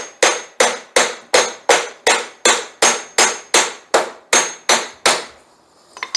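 Hammer striking a locked mower wheel axle on a Quantum lawn mower, about twelve sharp metallic blows in a steady, even rhythm, close and loud, then a short quiet tail.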